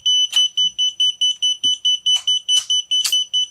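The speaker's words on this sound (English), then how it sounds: "Oh, that's my beeper." A drone flight controller's beeper sounds a rapid, steady train of loud, close, high-pitched electronic beeps, with a few faint clicks and rustles between them.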